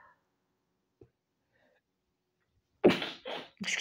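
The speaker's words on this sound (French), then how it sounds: "Attention, je vais éternuer." A single loud sneeze bursts out after a near-silent pause, followed by a short sniff or breath, close to the listener.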